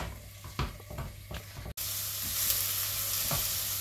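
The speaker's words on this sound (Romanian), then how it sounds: "Am lăsat să călească și puțin ceapa, câteva minute." Chopped onions sautéing in a pan for a turkey gizzard stew, a few soft knocks and stirring sounds before a brief cut, then a continuous close sizzle with a faint occasional scrape.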